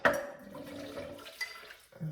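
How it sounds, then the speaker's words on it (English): A liquid mixture is poured into a pan for mince and tatties with dumplings. The watery splash starts loud and fades over a couple of seconds, with a faint voice nearby. "then I'm going to pour it into one side."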